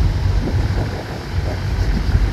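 Passenger launch Srinagar 7 arriving at Sadarghat, a steady low rumble of engine and churning water with wind buffeting the microphone, continuous and fairly loud throughout with no talk.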